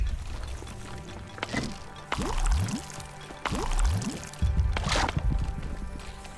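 Water pours in short bursts as puddles are gathered for a clay-deposit water supply in the settlement game The Wandering Village, with a few splashy pours and drips over a soft game background.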